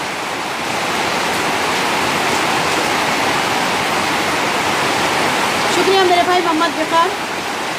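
During a storm over flooded Hyderabad streets, heavy rain and rushing floodwater make a loud, continuous roar, and near the end a voice speaks briefly over it.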